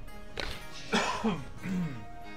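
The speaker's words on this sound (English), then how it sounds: "Had a cough." A single person coughs twice, loud and near, between quiet stretches during a game playthrough; a brief voiced throat sound trails after the second cough.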